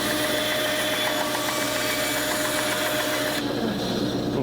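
A wood lathe spins steadily while trimming the end of a maple pen blank, a continuous loud whirring hum with cutting noise that changes character near the end, with no talking over it.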